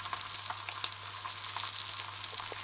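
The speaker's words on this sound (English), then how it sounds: "you just allow your ham slices to fry properly." Ham slices frying in a pot, a continuous bright hiss of sizzling fat with small crackles and pops scattered through, close and steady, over a faint low hum, no voices.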